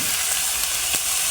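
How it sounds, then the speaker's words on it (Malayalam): Chicken pieces sizzling and frying in a hot pan for chicken perattu, a close, continuous bright crackle with a few small pops and spatters, no talking. "ഇനി നമുക്ക് ചിക്കൻ അങ്ങോട്ട് ഇട്ട് കൊടുക്കാം കണ്ടോ."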